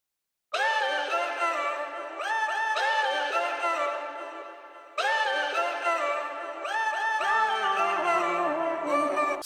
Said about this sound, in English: so basically this is a vocal chop